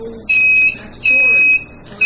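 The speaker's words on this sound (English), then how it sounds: "I'm gonna hit the 2 probes together. This is what a beep would sound like on my multimeter." Multimeter continuity tester beeping as its two probes touch together, two sustained shrill electronic tones about half a second each with a short gap between, loud and close, and a third beginning at the very end.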